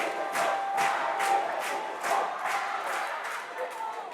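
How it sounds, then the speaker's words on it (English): A high school student section cheers and jumps at a DePaul College Prep girls varsity basketball game, with rhythmic rounds of loud shouting from the crowd pulsing roughly twice a second over a steady din. "Great student section here cheering and jumping up and down"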